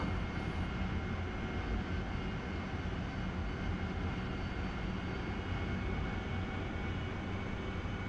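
Steady, unbroken aircraft engine drone from a combat flight-simulator game, a dense monotone hum that holds constant from start to finish with no voices.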